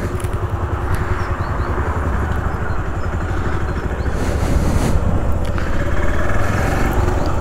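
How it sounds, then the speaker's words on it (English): A motorcycle engine idles and runs steadily up close in Holland before a ride to the ferry, a continuous throaty drone with no break. "I fire it up, the engine, and now going to the ferry."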